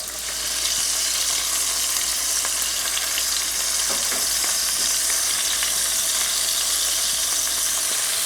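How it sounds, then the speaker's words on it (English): Lamb meatballs and vegetables brown in olive oil in a pan, giving a loud, steady, close sizzle with occasional stirring scrapes and no talk. "Just brown them just a little bit before we add our tomato sauce."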